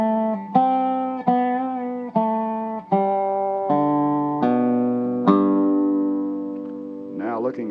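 A dobro resophonic guitar plays a slow instructional exercise line, about eight plucked, sustained notes one after another, each ringing clearly before the next, ending in a quick wavering slide.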